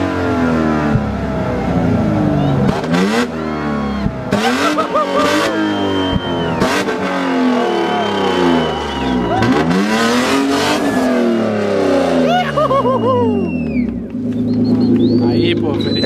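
A BMW E36 engine revs hard at a car meet, repeated rising and falling wails climbing through high rpm close by, with people shouting and cheering over it.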